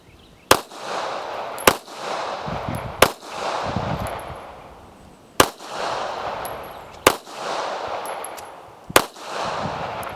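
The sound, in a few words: rapid fire gunshots from Taurus Spectrum pistol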